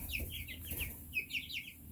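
Chickens clucking in quick, chirpy bursts, fairly close, with soft background rumble and no talking.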